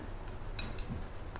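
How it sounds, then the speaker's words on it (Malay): Tahu begedil, tofu patties, frying in hot oil with a steady close sizzle, a sharp clink of a utensil partway through and faint stirring, no voices. "cara kita menggoreng dia lah ya"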